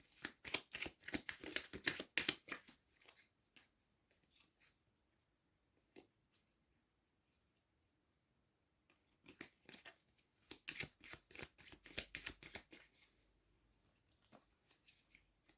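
Playing cards from a board-style card game being handled on a table, with bursts of soft shuffling, sliding and flicking near the start and again later, separated by a quiet pause, and no talk.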